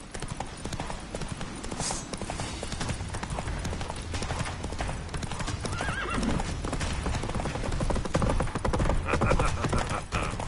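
Hooves of Roach, the horse in The Witcher 3: Wild Hunt, pound in a fast, continuous gallop, loud and close, mixed with dense game music and a snort or whinny along the way.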